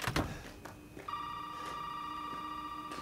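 A telephone rings in the video game Resident Evil 7, a sustained electronic ringing tone held after a few knocks and thuds, fairly quiet and alone with no talk.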